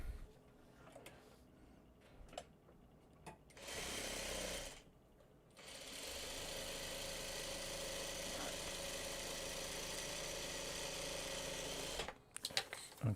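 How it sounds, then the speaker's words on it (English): A sewing machine stitches a string quilt, running in steady bursts with a short pause around the five-second mark, then whirring continuously up close for several seconds before stopping. "Let's sew."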